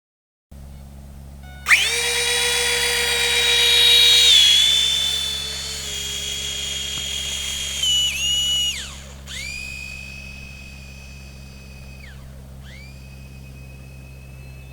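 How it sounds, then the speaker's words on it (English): The twin 30mm electric ducted fans of an E-Flite UMX Me262 RC jet spool up at low taxiing throttle. A shrill, close whine rises, holds and swells, then steps down and dips through several pitch changes, over a steady low hum. "At a very low throttle setting for taxiing, the high-pitched sound of those fans and motors is a bit much"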